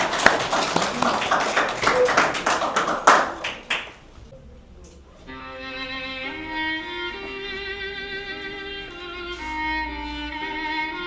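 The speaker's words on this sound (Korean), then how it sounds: "박수로 한번 좀 맞이해 주십시오" A short round of audience clapping at a peace symposium welcoming two poetry readers, distinct hand claps fading after a few seconds, then soft sustained melodic music takes over.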